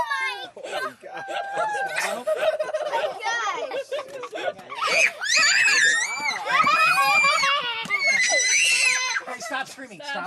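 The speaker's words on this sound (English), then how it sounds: "Hey, stop screaming. Stop screaming." A child screams loudly and shrilly in repeated rising and falling bursts while fishing for bass, mixed with excited voices and squealing laughter nearby.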